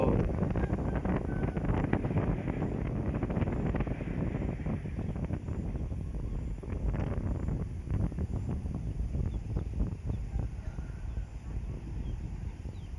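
Dry wind blows steadily outdoors in the evening, a constant broad hiss and rumble across the mic lasting throughout with no clear breaks.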